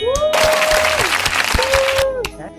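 A burst of close, lively clapping from a small group at a Christmas gathering, with voices calling out over it and the applause fading near the end.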